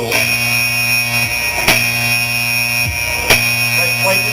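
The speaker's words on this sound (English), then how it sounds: "The zombie alarm." A loud, steady electronic alarm buzzer drones continuously with a harsh tonal hum, interrupted by a couple of sharp clicks as it sounds on without pause.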